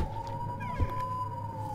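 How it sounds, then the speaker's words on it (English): Faint sirens wail in the distance in the video game Shadows 2 Perfidia, a steady drawn-out tone with slight rising sweeps, heard over a low background hum. "There's sirens going on right now, and I never said anything about it."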